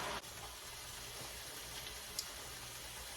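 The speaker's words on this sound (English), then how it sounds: "You can probably hear the sizzling up there." Faint, steady crackling hiss of chicken tenders and fries frying in hot oil in an iron skillet, with a few small pops, heard from a slight distance without talk.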